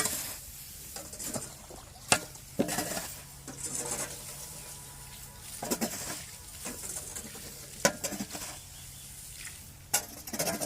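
Cattle feed mash being mixed with water at a cattle farm during evening feeding, a faint scraping and stirring with soft splashy clatter and scattered sharp knocks, fairly quiet throughout.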